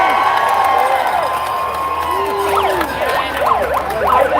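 A crowd at a Denver May Day workers' rally cheers and applauds for speaker Tim Hernandez, with loud sustained noise, rising and falling whoops and wailing siren-like calls.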